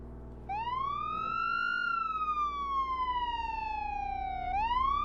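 Police-style siren on a tow truck in the Flashing Lights emergency-response game, a loud steady wail that sweeps up, slides slowly down, then rises again, with no talk over it.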